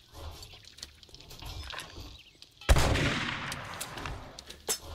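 A shotgun fires in the zombie survival game 7 Days To Die, a single loud blast followed by a short decaying boom, with quiet game ambience and faint voices before it.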